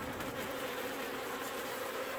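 Honey bees buzz around an open hive with a screened top during a summer inspection, a steady, dense, low drone that stays unbroken throughout.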